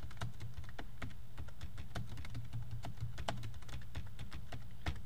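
Rapid, irregular keystrokes clatter on a computer keyboard throughout, steady and moderately close over a low background hum.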